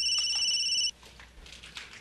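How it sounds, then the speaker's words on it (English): A phone ringtone trills loudly and steadily for almost a second, then cuts off abruptly, leaving faint room noise behind. "That's my phone."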